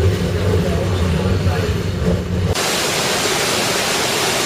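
A waterfall in Scandinavia, heard from a stopped train, roars as a broad, steady rush. Low machine hum sits under it at first and drops away partway through, leaving the bright, dense water noise alone.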